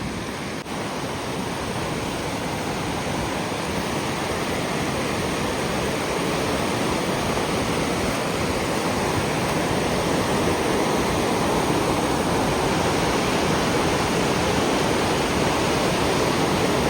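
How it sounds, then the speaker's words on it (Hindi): Rushing water from a stream flowing through a forest, a loud and steady broadband roar that stays close and continuous throughout, with no speech over it. "है ना पानी का कितना शोर"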